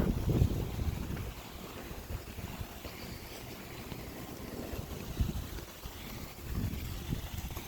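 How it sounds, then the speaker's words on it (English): Wind blowing outdoors on a sunny day, a steady broadband rush buffeting the microphone with low rumbling gusts that swell and ease, and no voices. "It's a little windy out"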